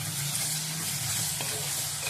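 Squid pieces frying in a pan for a Tamil-style kadamba thokku, a steady soft sizzle running throughout with a faint stir near the middle.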